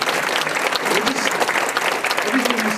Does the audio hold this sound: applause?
yes